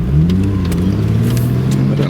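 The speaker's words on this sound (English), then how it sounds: "But a nice little blat from the engine." A 2013 Mercedes-Benz SLK 350 AMG Sport roadster driven with the top down gives a short, throaty engine blat that rises and holds as a strong, close rumble, with no talking over it.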